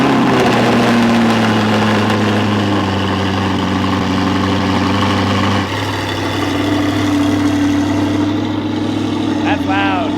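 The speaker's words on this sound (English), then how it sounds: "here's the first official cold startup with the car back together" An Audi R8 engine idling at high revs after a cold start with a newly installed Fi active exhaust, a loud steady rumble that settles lower partway through, with a voice speaking near the end.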